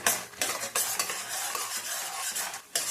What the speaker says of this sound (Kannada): ಇದೆಲ್ಲ ಸ್ವಲ್ಪ ಕಂದು ಬಣ್ಣ ಬರೋವರೆಗೂ ಫ್ರೈ ಮಾಡ್ಕೊಬೇಕು ಗೋಲ್ಡನ್ ಕಲರ್ ಬರಬೇಕು